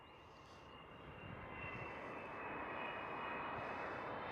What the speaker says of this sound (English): the next one is indeed a bigger one. It's the Delta Airlines A330.